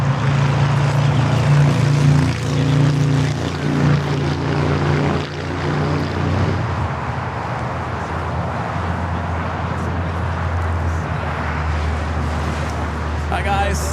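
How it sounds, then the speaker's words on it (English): A DHL Boeing 777 cargo jet taking off on the south side at Los Angeles airport, a loud, broad engine roar with a droning hum, heard under people talking nearby. "DHL 777 be taking off here on the south side"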